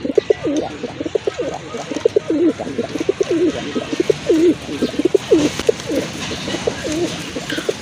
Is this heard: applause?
no